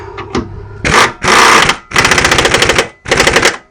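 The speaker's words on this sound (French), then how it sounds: "on va l'envoyer en l'air à la clé à choc" Impact wrench driving a bolt tight while a gearbox is refitted on an Ibiza car: a few light taps, then four loud, close, rapid rattling bursts with short pauses between them.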